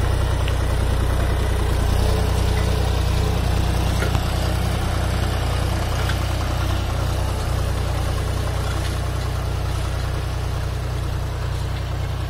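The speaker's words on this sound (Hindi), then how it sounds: "ये ट्रैक्टर जो है हैरो को खींच पाता है" A 50 hp John Deere 5205 tractor with 14-inch rear tyres pulls a harrow, producing a steady, heavy diesel rumble that stays constant and close for the whole stretch with no talk over it.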